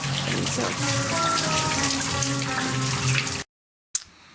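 Water runs steadily in a restaurant bathroom at Psycho Suzi's, a loud, close, continuous rushing that stops abruptly, followed by a brief clunk.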